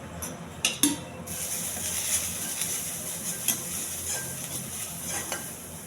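Turmeric and chili powder tempering in hot oil, a low sizzle under repeated clinks and scrapes of a spoon against the pan, close and fairly quiet, with no talking.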